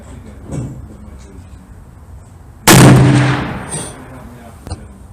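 A single sharp, loud rifle shot at an outdoor range, with a booming report that rings and decays for over a second after quiet background noise, chambered in a big-bore hunting caliber such as .460 S&W, .338 Federal or .358.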